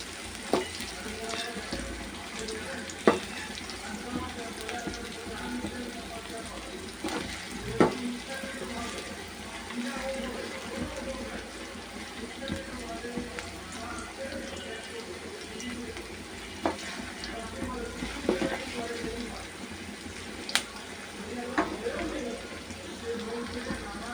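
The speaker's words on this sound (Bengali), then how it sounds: "পেঁয়াজটাকে ভেজে নেব।" Chopped onions frying in oil for dal, a steady low sizzle throughout with occasional clicks and knocks of stirring in a home kitchen, someone talking intermittently over it.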